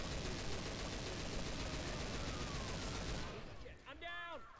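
Rapid automatic gunfire in the zombie shooter Left 4 Dead 2, a loud continuous burst for about three seconds that cuts off, followed by a short voice-like warble.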